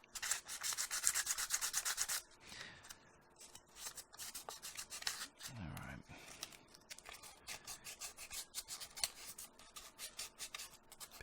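A 3D printed Majora's Mask being smoothed by hand sanding, with repeated close scratchy rubbing strokes in uneven bursts, loudest at the start and softer later.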